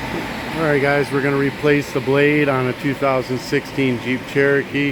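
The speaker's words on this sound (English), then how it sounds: "Sorry about the fan, but it's hot." An electric fan runs in a hot Florida setting, a steady airy whoosh in the background under someone talking close to the microphone.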